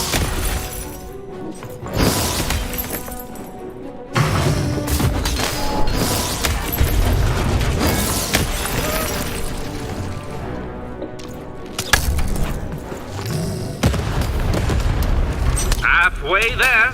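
Cannon fire in the video game Lost in Random, heavy booms and shattering crashes amid dense, loud game noise and music, with sudden impacts near 2, 4 and 12 seconds and a voice heard briefly.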